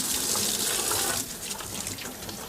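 Water gushes steadily from a kitchen tap into a sink while dishes, bowls and cups are washed, a loud continuous hiss that eases slightly partway through.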